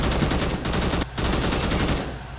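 AK-74 automatic fire in a video game, a dense, loud stream of rapid shots with one brief break in the middle before the firing resumes and then trails off slightly.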